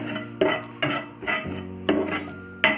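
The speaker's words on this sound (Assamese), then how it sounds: "এতিয়া মই ক'লা জিৰা আৰু জনি মই ভাজি ল'ম" Black cumin and nigella seeds roast in a metal pan while a spoon scrapes and stirs, giving about seven loud, rhythmic clinking strokes close by.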